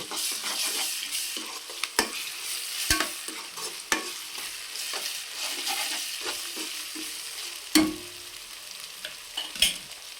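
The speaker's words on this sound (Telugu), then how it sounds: "ఉల్లిపాయ ముక్కలు అండి ఇందులో అల్లం వెల్లుల్లి పేస్ట్ వేసుకుందాము ఇది కూడా బాగా యాగనివ్వాలి" Ginger garlic paste fries with chopped onions in a pan for egg rice, giving a steady close sizzle broken by occasional clinks and scrapes of a stirring spoon.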